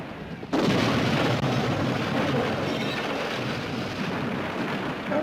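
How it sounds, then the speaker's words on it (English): Helicopter crash explosion from the 1978 comedy film Attack of the Killer Tomatoes: a sudden loud roaring blast that breaks in after a quieter moment, then a sustained broadband rumble and crackle that slowly fades over several seconds. "Looked like they actually crashed a helicopter."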